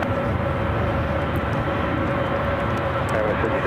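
Jet engine roar from a Boeing 777 departing runway 28 Left at San Francisco International Airport, a loud, steady broadband rumble with voices talking over it.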